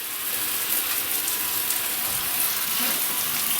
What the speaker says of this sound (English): And a pretty decent stream of it.